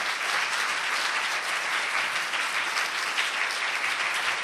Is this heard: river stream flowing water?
no